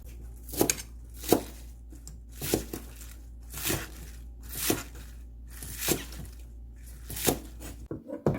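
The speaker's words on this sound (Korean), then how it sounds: "고구마 줄기가 간이 되는 동안 야채 썰겠습니다" Scallions being sliced with a knife on a cutting board, a series of distinct crisp chops in a loose, uneven rhythm, close and fairly quiet with a faint low hum underneath.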